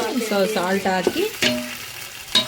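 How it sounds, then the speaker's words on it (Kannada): Tomatoes with salt fry in a pan for a wedding-style shaadi biryani, giving a steady sizzle with a few stirring knocks, partly covered by tonal voice-like or musical sounds. "ಸಾಲ್ಟ್ ಹಾಕಿ ಇವಾಗ ಚೆನ್ನಾಗಿ ಸ್ವಲ್ಪ ಟೊಮೆಟೊ ಎಲ್ಲ ಸಾಫ್ಟ್ ಆಗಬೇಕು, ಅಲ್ಲಿವರೆಗೂ ಫ್ರೈ ಮಾಡ್ಕೊಳ್ಳೋಣ."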